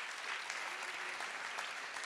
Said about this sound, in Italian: Un grande applauso ai nostri maestri!